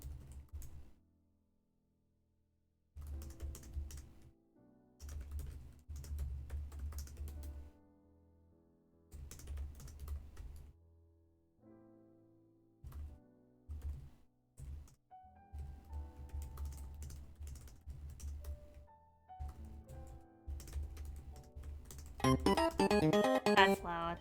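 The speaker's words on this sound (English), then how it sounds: "Sorry, I'm typing." Computer keyboard typing in bursts of quick clicky keystrokes separated by pauses, fairly close and moderately loud, ending in a busier, brighter flurry.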